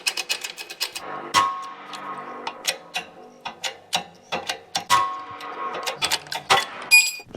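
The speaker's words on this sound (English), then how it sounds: "So I'm going to press the bearing out and we can press a new one in." Old bearing being pressed out of a tractor sprocket in a workshop, giving a run of sharp metallic clicks and ratcheting knocks in irregular bursts, close and fairly loud, with no talking.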